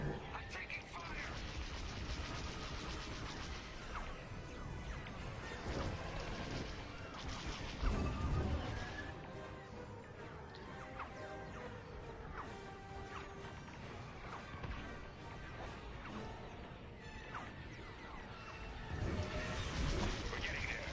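Starfighter under attack in Star Wars: Squadrons VR, a dense continuous barrage of blaster impacts, crashes and engine roar, loud and sustained with heavier hits now and then.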